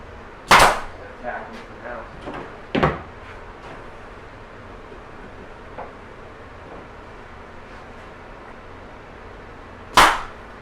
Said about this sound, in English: he's tacking it off so that he can get it all together, and then he'll finish stapling it